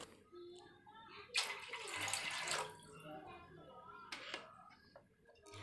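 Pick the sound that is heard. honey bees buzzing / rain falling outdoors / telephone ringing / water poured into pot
water poured into pot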